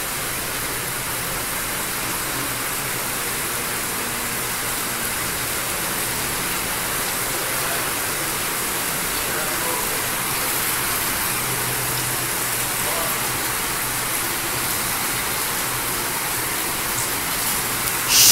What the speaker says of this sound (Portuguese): Chovendo, chuvarada. Ó, aumentou mais ainda.